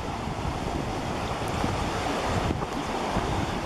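River water rushing below the Pine River dam with the flowage drawn down, a loud, continuous broadband roar mixed with wind buffeting the microphone, steady throughout and without talk.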